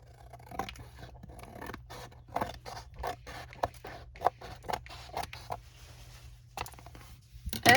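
Scissors snip through paper patchwork squares for a journal cover, a run of short crisp cuts in an irregular rhythm, close and fairly quiet, with a steady low hum beneath and no talking.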